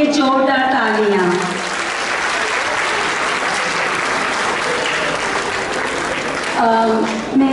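An audience at a school results event gives a sustained round of applause for directors, teachers and parents, with someone speaking over the start and end of it.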